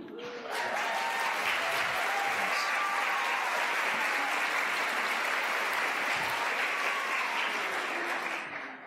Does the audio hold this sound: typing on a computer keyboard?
no